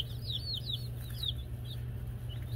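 Backyard chickens, black stars and barred rocks, cluck in short, scattered bursts over a steady low hum, close by and moderately loud, with no one talking.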